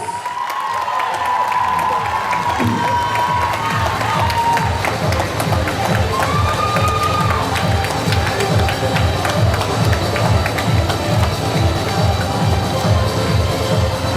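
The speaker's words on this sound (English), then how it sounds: "Come on, Dubai, you can do better with the applause" Quiz show audience at a prize-giving on stage in Dubai, UAE, cheers and applauds in a steady, loud crowd roar with shouts and whistles, lasting throughout.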